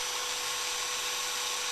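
A small drill bores a hole in a patchwork pendant, giving a steady, close, high-pitched whine that holds unbroken throughout.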